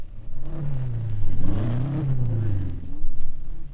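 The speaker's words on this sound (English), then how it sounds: "revving the engine while the mechanics fuss with the carburation" A 1956 Sebring racing car engine revs up and down repeatedly while mechanics adjust the carburetion, loud and close, with a deep rumbling growl that rises and falls.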